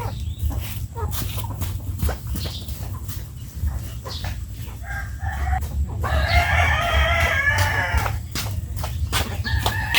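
Hens cluck and scratch nearby while a rooster crows loudly partway through, with scattered barnyard noises around them.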